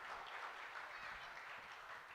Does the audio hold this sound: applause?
yes